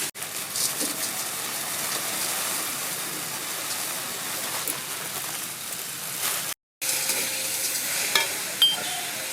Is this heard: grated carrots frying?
yes